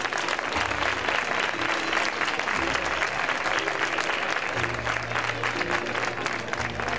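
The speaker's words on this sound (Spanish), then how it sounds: "Un fuerte aplauso para ellas dos." An audience at the Feria de la Bahía claps loudly for a mother and daughter on stage, a dense sustained applause with faint voices beneath it.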